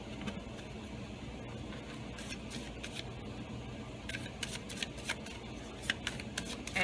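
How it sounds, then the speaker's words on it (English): A deck of tarot cards being shuffled by hand, a quiet run of soft riffling and flicking clicks that grows a little more distinct toward the end, with no talking over it. "Give these a shuffle."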